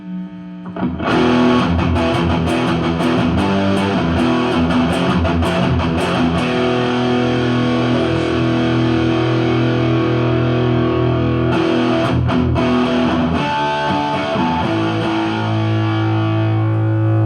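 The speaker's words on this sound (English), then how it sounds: "See what max the distortion, see what that sounds like." Heavily distorted electric guitar, played through a distortion pedal at maximum gain, plays loud and continuous, with sustained crunchy chords ringing out and a brief break near the end before a low chord holds.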